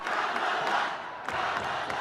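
A large crowd of about 20,000 cheers at Senator Kamala Harris's campaign kickoff rally in Oakland, a dense steady roar of voices with swells and shouts throughout.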